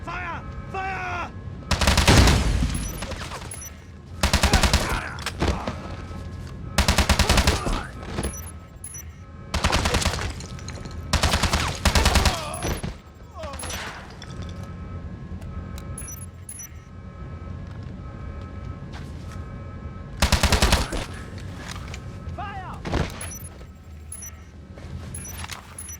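Bursts of gunfire in the James Bond 007: Blood Stone video game, repeated loud volleys and rapid automatic fire in clusters across the span, with brief pauses between exchanges and some shouting mixed in.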